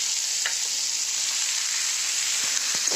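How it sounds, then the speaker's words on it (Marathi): Sliced onions fry in a hot pan with a steady, bright sizzle throughout, close and even, with a few soft stirring clicks and no talk. "आता हे कांदे चांगले भाजू देते"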